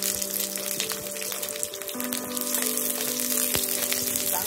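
Chillies fry in hot oil for ragi chiwda, a soft continuous sizzle with scattered small pops and crackles, close but fairly gentle.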